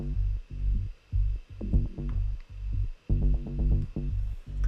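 A pulsing synthesized bass line playing repeated, rhythmic low notes in short phrases, with a buzzy tone and gaps between groups.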